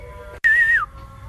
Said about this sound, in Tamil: விசில் அடிக்க தெரியுமா உனக்கு?